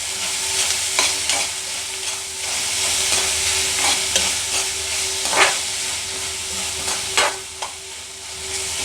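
Raw prawn curry with onions fries in a pan while being turned over. A steady crackling sizzle is broken by several sharp spoon scrapes and knocks at irregular intervals.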